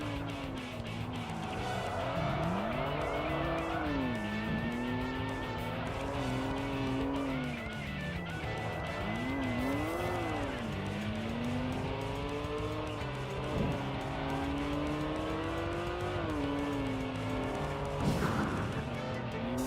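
A Toyota Supra races in the Tokyo Xtreme Racer video game, its engine droning steadily with pitch rising and falling through gear changes and corners, with occasional tire squeal and skidding and no talk.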